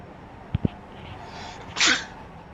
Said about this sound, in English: Apologies, I had a sneeze there that was unexpected.